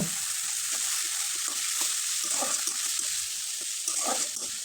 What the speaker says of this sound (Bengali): কিছুক্ষণ হালকাভাবে মশলাটাকে একটু কষে নিলাম।